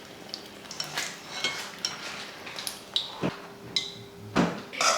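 Thin-skinned samosas frying in hot oil at home, a steady crackling sizzle broken by scattered clinks of a utensil against the pan and a few sharper knocks.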